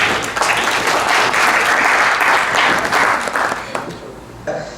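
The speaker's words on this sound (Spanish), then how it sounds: "Bienvenido, un aplauso." An audience at a statistics institute's survey results presentation applauds steadily for about four seconds, then fades out, with a voice briefly over the clapping.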